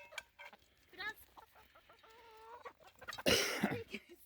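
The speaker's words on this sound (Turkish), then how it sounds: "Horozumuzun ismi Efe'dir" A rooster clucks and makes short throaty calls up close, with a louder flapping, rustling burst near the end.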